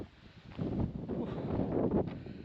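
Steady wind buffets the microphone on a coastal walking trail in Portugal, a low rumbling roar that swells after a quieter start and holds strongly throughout, with no voices.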